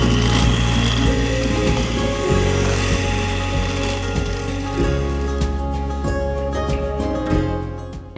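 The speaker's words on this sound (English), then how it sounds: "I'm using an electric hand mixer to loosen all of the pulp inside of the pumpkin." Electric hand mixer churning through the stringy pulp inside a carved Halloween pumpkin, a steady whirring motor with a grinding, ratcheting texture that runs loud and close throughout, its pitch wavering as the beaters work.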